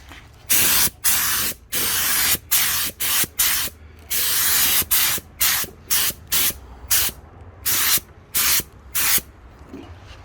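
A spray gun lays another coat of textured paint on an HQ Holden Monaro coupe, firing in repeated loud hissing bursts of uneven length separated by short pauses.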